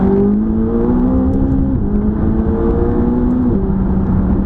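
A McLaren 570GT supercar engine accelerating hard on the road, with a loud, continuous engine note climbing in pitch through two gear changes.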